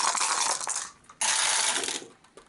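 A handful of dice rattle and clatter onto a hard surface during a tabletop board game of Gloom of Kilforth, two loud bursts of tumbling clicks separated by a brief pause.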